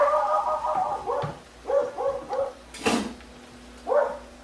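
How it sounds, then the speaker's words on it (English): Several dogs bark excitedly nearby in a home kitchen, with a quick run of sharp, overlapping barks and yips, a loud knock or door bang midway, then one last bark. "Dogs are excited."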